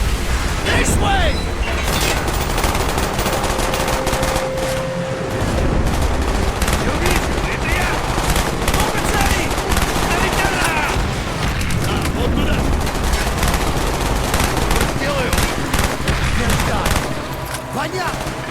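Rapid gunfire in Call of Duty: Black Ops, loud sustained automatic bursts and shots layered with explosions and battle noise, while voices shout over the fighting.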